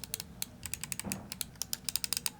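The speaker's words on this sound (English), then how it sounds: "For the switches, you're going to be getting the Hawano Blue switches" A computer mouse with Hawano Blue switches clicks repeatedly, producing sharp, crisp, irregular taps heard close and fairly quiet against a soft background.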